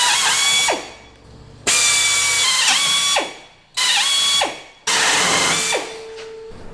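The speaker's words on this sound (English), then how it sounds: "So these actually need to be drilled into the chassis." Power drill boring holes into the chassis of a brand new Nissan Navara 4WD, four loud bursts of whining drilling, each spinning down before the next starts, close and alone.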